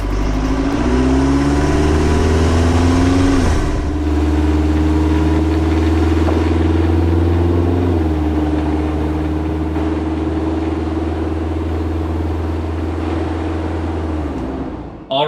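A Jeep TJ Wrangler with a Kubota diesel engine and an upgraded turbo drives steadily, its loud, close drone running throughout, with the pitch climbing as it accelerates through gear shifts and then settling at cruise.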